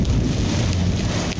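Hail and heavy rain pound down during a storm in Rio de Janeiro, a dense, steady roar of impacts with no talking.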